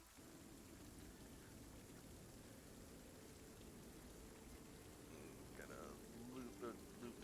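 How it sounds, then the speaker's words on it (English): Light rain and gusting wind as a played ambience effect, a faint steady hiss of rainfall with a low windy rumble underneath, quiet and continuous, with a few faint voices and sounds near the end. "Light rain and gusting winds."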